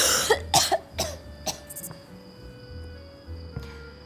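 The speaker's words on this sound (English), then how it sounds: "Emily has a cough" Several sharp coughs from one person in quick succession near the start, then a couple more spaced out, with a faint steady background hum and insect-like chirp.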